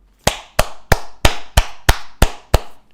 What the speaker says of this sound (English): I'm gonna clap my hands